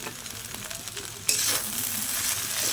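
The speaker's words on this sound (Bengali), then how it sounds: "ডিমের ভুজিয়াটা দিয়ে আমি ভালো করে নেড়ে চেড়ে মিশিয়ে নেব।" Chow mein noodles being stir-fried with scrambled egg in a pan, a soft sizzle with light stirring scrapes that jumps to a louder, fuller frying hiss partway through.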